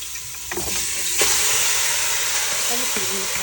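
Pieces of curry goat and chicken hit a hot pot and break into a loud, steady sizzle and hiss, up close, with brief stirring clatter and a voice speaking faintly in the background.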